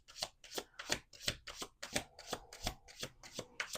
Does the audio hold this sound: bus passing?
no